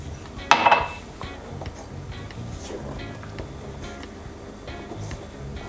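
Fruit goes into whisked cake batter in a bowl, opening with a sharp clink of utensil against the bowl and then settling into faint, soft handling sounds.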